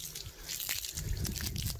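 Water pumped by a submersible pump from a 17-metre-deep well splashes and trickles steadily from a flowing outlet, fairly close, with a continuous gushing texture and no talking.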